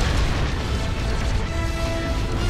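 A sustained, dense blast of noise in the video game Star Wars: Empire at War, Thrawn's Revenge mod, roars steadily throughout, like a prolonged explosion rumbling with crackling debris.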